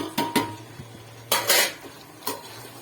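A spoon stirs spice masala of chilli powder, turmeric and garam masala with tomatoes in a pan for chicken biryani, giving a few sharp metallic clinks and scrapes in quick pairs, close and clear against a quiet background.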